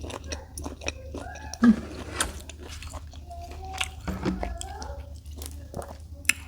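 Someone bites and chews a crunchy, spicy giant octopus tentacle salad with cucumber, producing close, moist crunches and squishy chewing sounds in uneven bursts between murmured talk.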